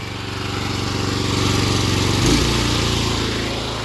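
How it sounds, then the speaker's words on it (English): A pressure washer fitted with a 25-degree green tip sprays a car during a touchless wash. A loud, steady engine drone runs under broadband spray hiss throughout, with no talking. "We're gonna hit it with this pressure washer."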